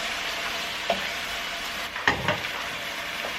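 Green beans and tofu sizzle steadily in a frying pan while being stirred, with a few distinct scraping clatters of the utensil against the pan over a constant frying hiss.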